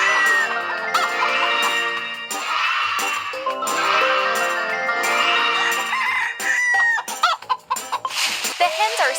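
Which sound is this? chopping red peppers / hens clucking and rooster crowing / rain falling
hens clucking and rooster crowing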